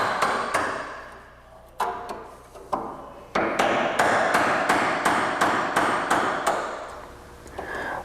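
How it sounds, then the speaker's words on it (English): A hammer drives a chisel into spot welds on the floor pan of a 1968 Mustang California Special, sharp metallic strikes landing in uneven bursts, then a steady run of about a dozen evenly spaced blows, close and loud. "use our hammer and chisel to eliminate the spot welds"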